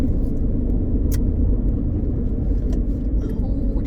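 A car rumbles steadily close by while driving, a continuous low engine and road drone with no talk over it.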